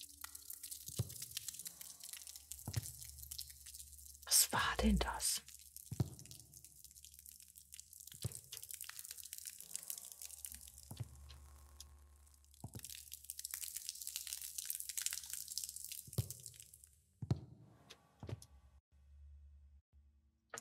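Water splashes and drips in a dark horror game setting of Don't Be Afraid, with scattered sharp drips and wet crunches over an airy background hiss, and someone briefly speaks.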